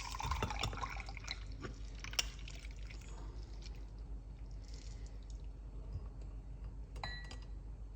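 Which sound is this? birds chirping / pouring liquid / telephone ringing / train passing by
pouring liquid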